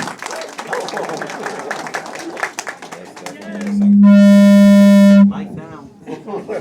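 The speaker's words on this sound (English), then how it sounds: "So I want to give you guys a clap" An audience at an Ohio Media School graduation ceremony breaks into applause, a dense crowd clatter mixed with talk, cut off by a loud sustained horn-like tone before the clapping trails off.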